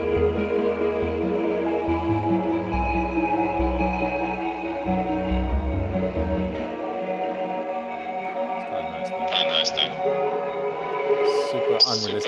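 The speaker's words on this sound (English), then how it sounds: "There's a super metallic one, which sounds like this." Super metallic effect from a hybrid reverb plugin, a dense ringing wash of tonal, clanging harmonics with a low rumbling layer that drops away midway, leaving bright sustained resonances and a few sharp metallic flashes near the end.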